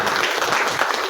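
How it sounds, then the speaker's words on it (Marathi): An audience at a film team's stage event for a Marathi movie breaks into a brief, dense burst of applause, steady and fairly loud throughout. "तर एकदा आपण टाळ्या वाजवूया."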